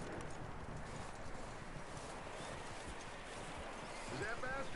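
Horse hooves clop along in Red Dead Redemption 2, a soft, steady rhythm low in a busy, noisy game soundscape, faint and partly masked, with voices present.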